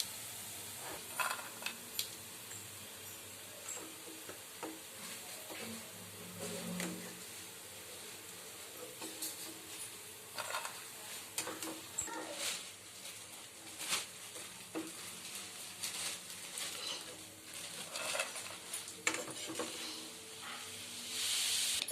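Soya 65 pieces frying in hot oil, a soft continuous sizzle with occasional crackles and stirring clinks, fairly quiet and steady throughout.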